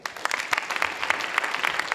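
Indoor audience at an education partnership congress panel discussion claps steadily, a dense, even applause filling the whole moment with no talking.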